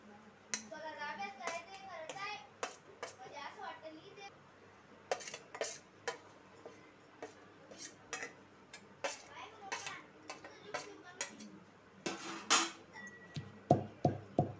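Garlic pounded with coconut, peanut powder, chili powder, turmeric, coriander and cumin in a mortar for a bitter gourd dish, sounding as repeated close, sharp knocks and clinks in an uneven rhythm, with someone talking over most of it.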